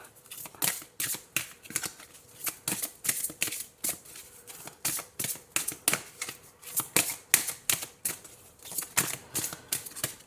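Tarot cards are shuffled close by in a long run of quick, crisp riffling bursts that repeat rhythmically, each a sharp papery flutter, with no talk over them.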